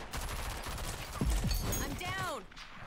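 Submachine gun fire in a shooter video game, a few close, heavy bursts blended into dense game noise, with a voice-like tone sweeping near the end.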